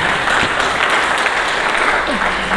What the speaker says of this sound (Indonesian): Dikit kali berikan tepuk tangan bagi Yesus.